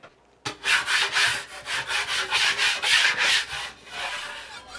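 A drywall knife spreads a thin layer of joint compound over taped drywall, giving a close series of rhythmic scraping and rubbing strokes with no talking.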